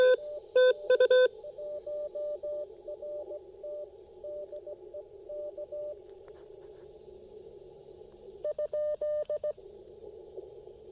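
Bursts of beeping radio tones from another station on the same frequency cut in and out over a steady receiver hiss, some short, some longer, heard on a low-power portable ham radio setup with a delta loop antenna.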